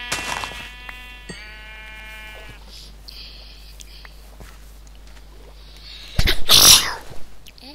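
A single sharp sneeze bursts out near the end, loud and close, after quieter Minecraft game sounds including sheep bleats and background ambience.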